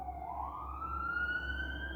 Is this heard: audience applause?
no